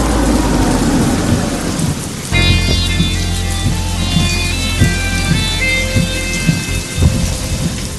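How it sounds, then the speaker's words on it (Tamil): Steady heavy rain pours down outdoors at night, loud and close, with rumbling thunder rolling beneath it and scattered sharp drop hits; no voices are heard. "மழை பெஞ்சுக்கிட்டு இருக்கு."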